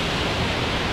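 A mountain river in the Caucasus forest roars as a steady, dense broadband rush, loud and close, with no other sounds breaking through.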